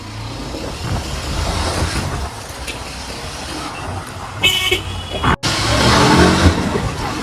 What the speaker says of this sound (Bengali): এই বাইকটা আওয়াজ হয়, জোরে ছোটে না, শুধু আওয়াজই হয়